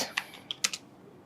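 Irregular keystrokes on a computer keyboard as a text prompt is typed: a handful of quiet, crisp clicks in a short burst, with nothing else in the background.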